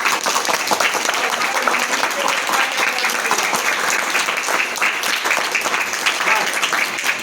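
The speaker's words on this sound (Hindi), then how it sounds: "एक बार उनके लिए जोरदार तालियां बजा दीजिएगा" Audience at a school officers' swearing-in ceremony giving loud, sustained applause for soldiers at the border, dense clapping throughout with a few voices mixed in.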